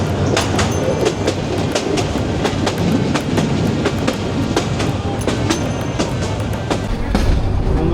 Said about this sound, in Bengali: আসলে দেখছেন যে ট্রেন কিন্তু এখন ভালোই যাচ্ছে, মোটামুটি ভালোই স্পিডে যাচ্ছে।